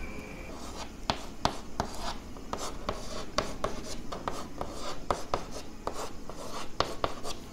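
Chalk or marker writes a chemical formula on a classroom board in quick, irregular taps and strokes, a busy scratching rhythm close by with no talking.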